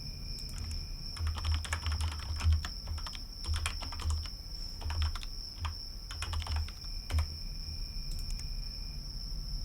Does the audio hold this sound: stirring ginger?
no